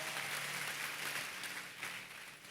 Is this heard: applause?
yes